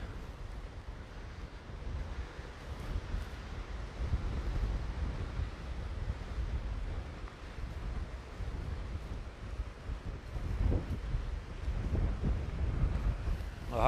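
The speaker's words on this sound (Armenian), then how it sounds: "Շատ ուժեղ քամի է" Strong wind buffets the microphone beside the sea near a seawall barrier, a steady roaring rush with low gusty rumble and surf-like wash throughout, growing louder toward the end.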